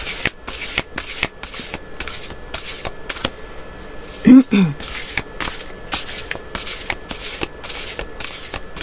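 Intuitive astrology oracle cards are shuffled by hand in a steady run of crisp riffling bursts, close and clear, with a short louder handling noise partway through.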